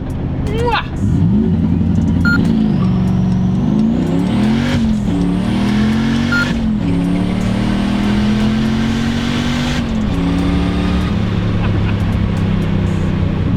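A Volvo car engine revs hard and climbs through several flat-foot gear shifts, the pitch rising and dropping with each change, loud and close with a voice talking over it.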